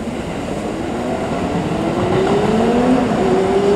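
A train rumbles in steadily near the old Ikoma Tunnel entrance in Japan, growing louder, with a high metallic squeal from the wheels as it approaches and slows.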